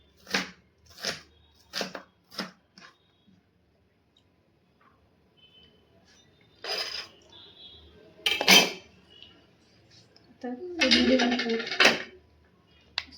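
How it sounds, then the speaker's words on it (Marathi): A knife chops a leftover half onion finely on a board in a home kitchen, with a quick run of sharp taps at first, then sparse louder knocks and a clattering burst, alone with no talk. "अर्ध्यातला अर्धा कांदा उरलेला ना, ते आता एकदम बारीक असा कट करून घेऊयात."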